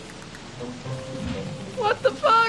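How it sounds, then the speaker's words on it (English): Steady rain patters in the video game Don't Starve during a frog rain, a soft continuous wash, while a man exclaims loudly over it near the end. "Why is it raining frogs?"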